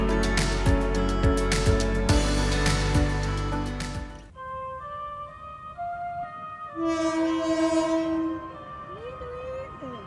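A passenger train, the Bengawan, at a station in Indonesia: loud rumbling and horn-like tones with rhythmic clanks at first, then quieter sustained tonal sounds like a chime or announcement jingle.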